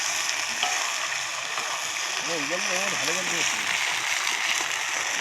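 Chili powder and spices sautéing in a pan for a meat curry give a steady, close sizzle throughout, while a voice speaks briefly over it midway.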